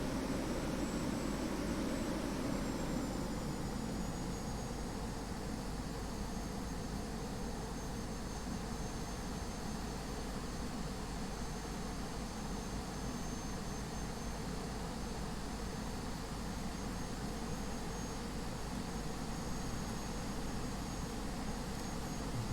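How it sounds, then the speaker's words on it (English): Airliner taxiing on the ground at Thessaloniki airport, a steady loud jet engine roar with broadband hiss held constant throughout, no voices. "Okay, so we're taxiing Charlie now."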